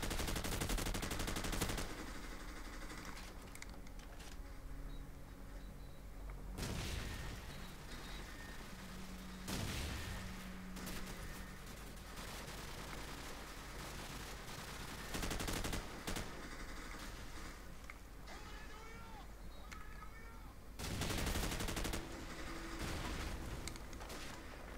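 Gunfire in the game Call of Duty 4: Modern Warfare, in a team deathmatch on a swamp map, comes as bursts of automatic fire and single shots, loud and repeated, separated by quieter stretches of game sound.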